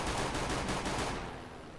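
Rapid bursts of video game gunfire crackle for about a second, then trail off into a softer fading rumble.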